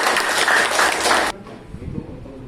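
A short burst of classroom clapping from students during a mathematics lesson, fairly close and steady for just over a second before cutting off abruptly into quiet room noise.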